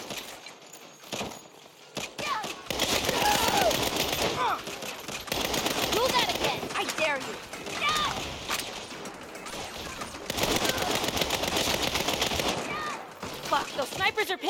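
Bursts of sniper gunfire in Saints Row as a trap is sprung at Marshall Field, with shooters on an upper floor. Sharp, repeated shots crackle over dense, busy game action that keeps running throughout.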